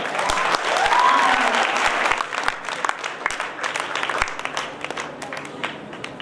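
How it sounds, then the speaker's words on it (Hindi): Loud audience clapping fills a hall at an Islamic quiz competition prize announcement in Nizamabad, swelling early and then continuing as steady, dense applause with a few sharper claps throughout. "जोरदार तालियों के साथ"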